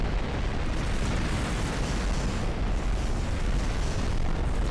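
Spaceship broadside cannon fire in Rebel Galaxy, a continuous roaring barrage of heavy booms and rumbling blasts that blend into a steady loud wash of explosions.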